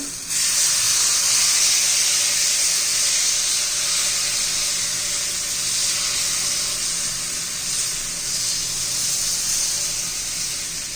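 Jowar flour batter spreads onto a hot iron tawa with a loud, steady hiss and sizzle that runs unbroken and close-up for the whole stretch, with no voices.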